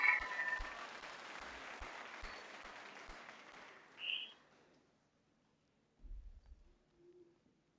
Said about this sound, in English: So big round of applause for Olivia as she joins us on stage.